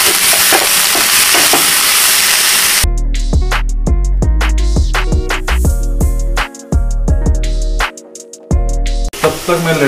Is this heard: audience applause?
no